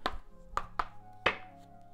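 A deck of oracle cards, the Oracle des Miroirs, being shuffled by hand: four sharp, separate clacks and riffles with short pauses between them, close and fairly quiet, with no voice.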